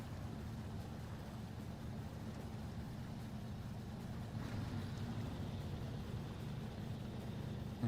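A truck in SnowRunner with a stronger, more powerful engine, a low, steady, continuous drone at moderate volume that rises slightly midway, with no talking.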